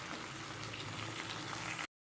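Onion, tomato and green chili sautéing in oil, a dense, even sizzle that hisses continuously at moderate volume for a couple of seconds and then cuts off abruptly.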